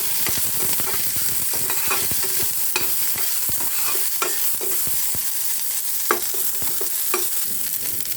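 Urad dal, garlic, shallots, curry leaves and chili flakes sizzle in hot oil in a pan while a spoon stirs them, giving a steady frying hiss broken by repeated scraping clicks.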